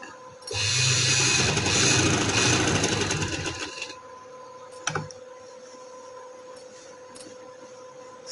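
An electric sewing machine stitches trouser fabric in one close, rapid burst of fast needle chatter lasting about three seconds, then stops, leaving quiet handling clicks and a faint tick.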